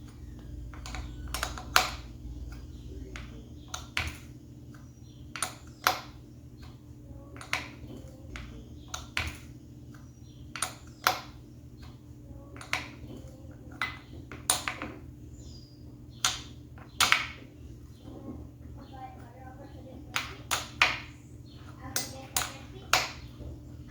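Someone tightens a 9/16 nut on a 2019 Harley-Davidson Sportster primary case with a hand tool. Sharp metallic ticks and clicks come in irregular bursts over a low steady hum, close by, with faint talk at times.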